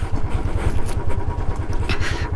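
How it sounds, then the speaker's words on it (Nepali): Royal Enfield motorcycle on a slippery offroad trail, its engine running close and loud with a steady low thumping knock and some rattling clatter, and no talk. "ढक ढक गरिरहेछ यार यो बाइकको"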